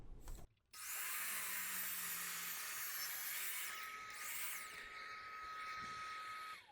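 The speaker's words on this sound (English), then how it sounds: "So we cut a 45-degree bevel on this piece of material" A miter saw spins up with a sharp motor whine and rips through wood on a 45-degree bevel cut, a loud, close, sustained roar that eases off as the blade winds down.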